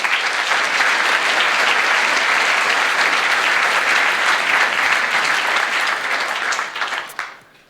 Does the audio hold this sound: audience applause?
yes